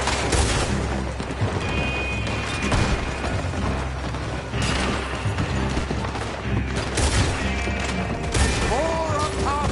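Heavy gunfire fills a Red Dead Redemption 2 shootout at an oil works, a dense, continuous barrage of overlapping shots and bangs with no letup.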